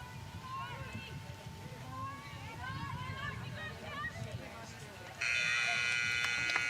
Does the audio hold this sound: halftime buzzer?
yes